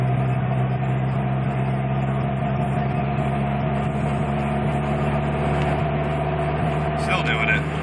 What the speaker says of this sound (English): Misfiring really bad.